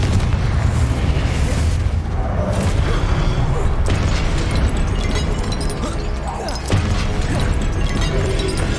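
Confringo blasting spells explode in Hogwarts Legacy amid continuous battle noise, with loud booming blasts and crackling bursts layered over a dense, rumbling combat din, and a voice shouting spell names.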